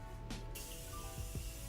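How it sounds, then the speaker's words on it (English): A Morphe Continuous Setting Spray mists onto a face in one short, soft hissing burst, with quiet low rustling and handling noise around it. "Then I'm gonna take my Morphe Continuous Setting Spray to seal it all in."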